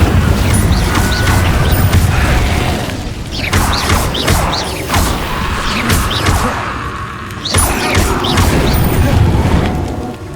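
Incendio fire spells cast in Hogwarts Legacy gameplay: loud, dense whooshing bursts and crackling impacts over constant roaring background, with several sharp hits spaced through the passage and short quieter gaps between flurries.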